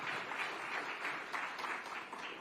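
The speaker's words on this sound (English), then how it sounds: "give a round of applause to our panel" Audience applause for a conference panel taking the stage, a steady dense wash of clapping from a room full of people, even and sustained for a couple of seconds.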